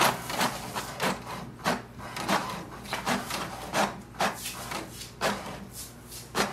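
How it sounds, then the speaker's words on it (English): An HP DeskJet 2742e inkjet printer printing its information page, with rhythmic swishing passes of the print carriage repeating roughly every half second over a low mechanical hum, close and moderately loud. "Wait for the printer to print a page."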